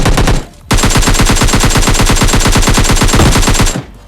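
Sustained automatic gunfire in PUBG Mobile Lite, a rapid loud burst after a short pause, then a steady stream of shots lasting about three seconds before stopping abruptly.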